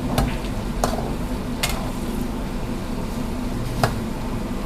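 Boiled eggs frying in leftover oil sizzle with a steady, even crackle, while a few sharp clinks of a utensil stirring against the pan cut through now and then.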